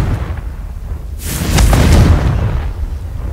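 A Confringo blasting spell explodes in Hogwarts Legacy: a sudden loud whooshing burst rises into a deep, rumbling boom that swells for about a second and then fades, with no talking over it.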